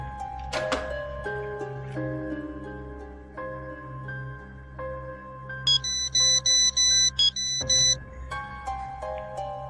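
A phone call being placed in a domestic drama, with a melodic tone sequence playing followed by a string of bright, high, evenly spaced ringing pulses over a low steady hum, fairly close and without talk.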